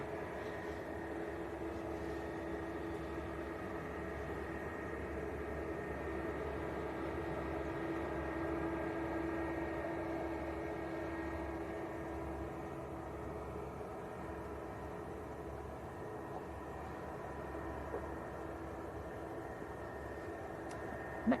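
A Turkish Airlines airliner at Manchester Airport makes a steady, distant jet roar that holds level throughout without any talk.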